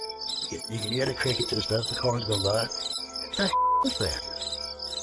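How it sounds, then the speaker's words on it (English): Crickets chirp steadily at night in a backyard beyond the trees, a continuous, close, shrill trill running throughout, while a person briefly asks a short question. "You can hear the crickets and stuff."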